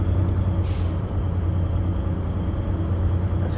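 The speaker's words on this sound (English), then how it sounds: "You can hear those air brakes." In Truck and Logistics Simulator, a truck's air brakes let out a brief, sharp hiss over the deep, continuous rumble of the idling engine, with no talking.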